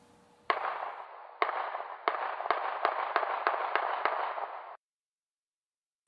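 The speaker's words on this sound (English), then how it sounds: "It's an accelerating shot pattern." Recorded gunshots fired in an accelerating pattern: a few spaced sharp reports, then a quickening run of about nine shots, distant-sounding and moderately loud with no talking.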